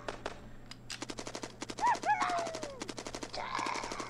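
Rapid bursts of automatic gunfire from the zombie defense game Zombies Can't Jump, dense runs of shots repeating over several seconds with whooshing game effects between them, loud and close.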